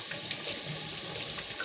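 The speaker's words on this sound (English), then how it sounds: "And let me wash my hands." Hands are washed under a running kitchen tap, a steady hiss of flowing water with soft splashing changes, near and alone.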